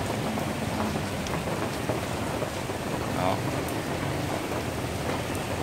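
Steady, dense rain falls on a Saigon street, a constant close hiss of drops on pavement, while a voice briefly speaks over it.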